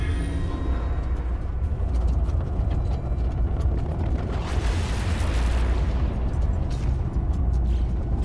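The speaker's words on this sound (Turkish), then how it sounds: "Şuradaki patlama efekti biraz daha ileriye doğru gelseymiş" A deep, sustained whooshing boom from a portal activation in the video game No Man's Sky swells and rolls on for several seconds, like a big synthetic explosion effect.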